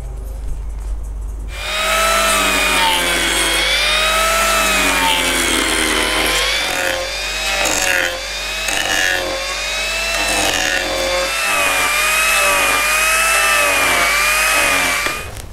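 An Arbortech TURBOPlane power carver trims the outside edge of a solid wood tray, a loud close grinding whine with wavering pitch, running continuously for over ten seconds after starting up, no voices.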